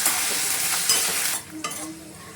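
Potatoes and green peas sizzle and stir in a little hot oil in a kadhai. A steady, loud frying hiss runs for the first part, then drops lower, with a few brief scrapes near the end.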